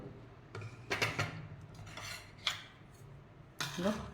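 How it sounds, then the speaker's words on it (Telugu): The lid comes off a mixer grinder jar after fenugreek seeds are ground to powder, giving a few short metallic clinks and scrapes of steel, fairly quiet and close, with brief pauses between them. "ఇప్పుడు మూత తీసి చూసుకోవాలి"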